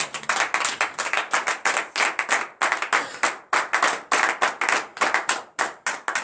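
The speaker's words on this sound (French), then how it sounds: "Pour cela, acclame encore ton Dieu." A congregation at a morning prayer service in Benin claps rapidly and loudly, dense overlapping hand claps in a fast, steady rhythm that carries on without a break.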